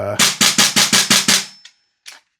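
Salvo Precision Spear LT airsoft gas blowback rifle fed from a Lancer magazine fires six sharp, evenly spaced shots in quick succession, each with a snappy bolt clack, followed by a couple of faint mechanical clicks.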